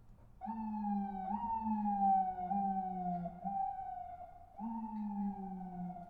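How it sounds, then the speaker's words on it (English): A thin, weak siren wails in repeated rising and falling sweeps, fairly quiet and alone, with a short break near the middle before resuming. "What a pathetic siren."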